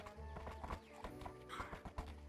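Horse hooves clip-clop in a steady rhythm inside a VRChat roleplay game, close and fairly prominent, with faint background murmur.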